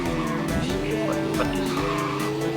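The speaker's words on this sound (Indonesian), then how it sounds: "mobilnya ngepot-ngepot" A car drifts in the video game Super Bear Adventure, its tires squealing in repeated bursts over a steady engine hum, with a loud, busy layer of game sounds throughout.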